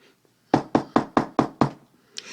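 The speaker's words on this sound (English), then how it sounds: "She knocked on the door." Six firm, evenly spaced knocks on a door of a conference room at the end of a long hallway, close and crisp in an otherwise quiet space, followed by a faint brief rustle.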